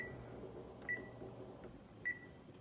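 Microwave timer being set for cooking spaghetti noodles, heard as two short, faint electronic beeps about a second apart over a low steady hum.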